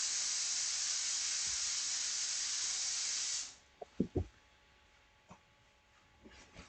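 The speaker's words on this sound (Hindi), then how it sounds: "कुकर की सीटी बज गई।" A pressure cooker releases a loud, steady steam hiss for a few seconds that then cuts off abruptly, followed by a few faint knocks and clicks in a quiet room.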